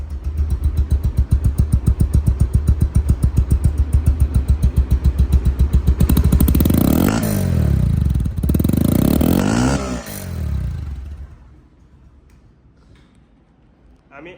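A second-hand Bajaj Pulsar DD ABS motorcycle with 1200 km on it idles loudly and close with an even, rapid thumping beat for about six seconds. The engine then surges and falls back before fading, and voices are heard.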